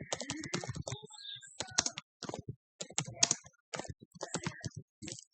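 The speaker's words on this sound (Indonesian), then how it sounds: "Dan tekan tombol tab di keyboard ya." Someone types on a computer keyboard while entering accounting transactions, with quick, irregular bursts of close key clicks and brief pauses between runs. No one talks.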